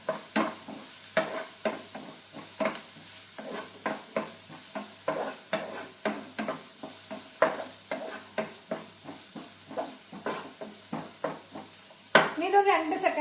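Garlic sautéed in a pan for a leafy thoran dish, with a steady soft sizzle and repeated scraping stir strokes in a regular rhythm, close and moderately loud, ending in a louder clatter near the end.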